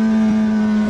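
Race car engine in Assetto Corsa on the Argentine San Cayetano circuit, a loud, steady buzzing drone held close throughout with only a slight waver, no talk over it.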